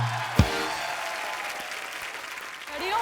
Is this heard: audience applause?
yes